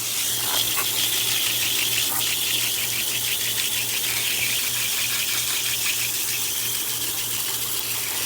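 Water sprayed over a vintage air conditioner to rinse out cleaning foam, a loud, steady gushing hiss over a low electrical hum, continuous throughout with no talk.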